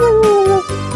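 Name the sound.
dog howling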